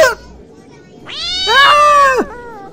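A cat meows in an anime fandub scene, with a short cry at the start and then a longer, louder drawn-out meow, close and clear with no talk over it.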